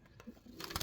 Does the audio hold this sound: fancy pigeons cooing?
yes